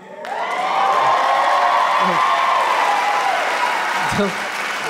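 A comedy club audience breaks into loud, sustained clapping and cheering with a few whoops, swelling quickly and holding steady as a voice speaks briefly over it.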